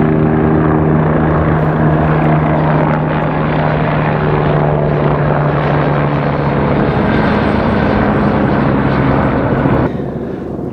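Helicopters flying over a wildfire in the evening make a loud, steady, continuous rotor and engine drone that fills the whole stretch and drops off slightly at the very end.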